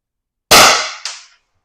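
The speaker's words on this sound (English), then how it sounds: "Fourth shot." A CO2 air pistol fires a single sharp, loud shot close by, with a quick metallic echo or second report about half a second later, alone with no talk.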